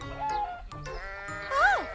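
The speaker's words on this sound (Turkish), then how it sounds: "Bir keçi." A goat in a Turkish-dubbed Caillou cartoon gives a short, wavering bleat near the end of the clip, rising out of the other soundtrack sounds and voices.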